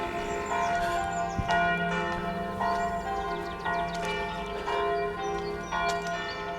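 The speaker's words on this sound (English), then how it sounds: "Yeah, them bells go all night." Church bells ring steadily, their struck tones overlapping in a rich, continuous peal with repeated strikes every second or so, heard at moderate distance with no talking.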